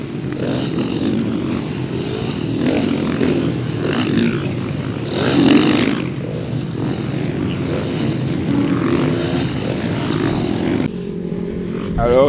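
Supermoto motorcycles and quads on a warm-up lap at the Mettet circuit, engines droning steadily at a distance with a louder pass midway, under continuous talk.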